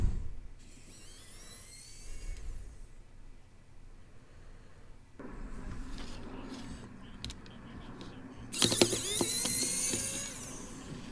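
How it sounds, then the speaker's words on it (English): Small screws being backed out of a Razer Naga Trinity gaming mouse during a microswitch replacement: faint, close scraping and light mechanical clicks, ending in a louder burst of handling noise near the end. "So we'll start by taking away the screws that we can see."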